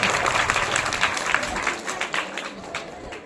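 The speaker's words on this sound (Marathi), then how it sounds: "टाळ्या वाजवा सगळ्यांनी मुलांसाठी." An audience at a school event where a science lab, e-learning sets and water filters are presented applauds for the children, a short burst of dense clapping that thins out, with a voice underneath.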